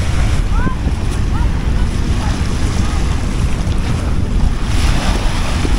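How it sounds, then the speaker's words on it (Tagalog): Steady surf washes ashore with constant wind noise buffeting the microphone, a few faint bird-like chirps, and no pauses between the rolling waves. "Sakto lang yung alon."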